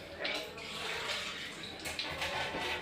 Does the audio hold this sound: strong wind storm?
no